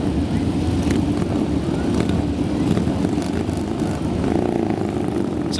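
Motorcycles riding around a display arena, their engines a steady, loud, rumbling drone that swells slightly as the bikes pass, with wind buffeting the microphone.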